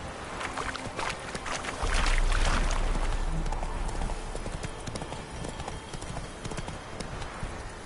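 Horse hooves clip-clopping at a gallop in The Witcher 3 video game, a steady loud rhythmic beat that swells near the start and carries on under ambient game sounds.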